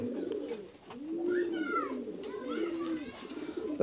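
A pigeon held by its wings gives repeated throaty coos in close, rising and falling bursts with brief pauses between.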